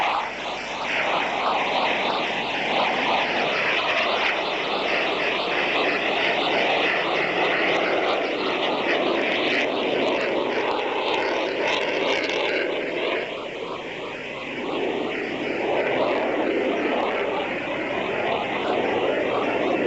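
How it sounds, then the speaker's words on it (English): Blue Angels jet aircraft flying an air show maneuver with an inverted plane and landing gear extended, at the 1986 Cleveland National Air Show: a loud, steady engine roar that swells and wavers throughout, with no talk. "Lieutenant Commander Watson in the inverted aircraft has called for the landing gear to be extended in a maneuver"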